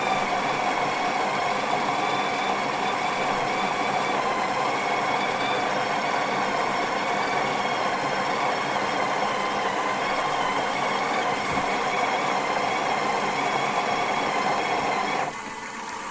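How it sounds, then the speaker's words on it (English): A Breville Barista Touch espresso machine grinding coffee automatically, a steady close mechanical whir with a constant tonal hum that holds evenly before dropping off abruptly near the end. "if I was to push that to the right, it automatically grinds"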